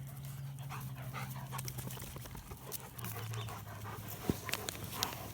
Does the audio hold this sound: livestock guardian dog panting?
yes